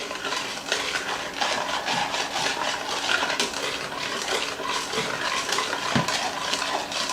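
A whisk beating nectarine muffin batter in a bowl, a steady run of close clinking and scraping strokes with a soft wet churn beneath.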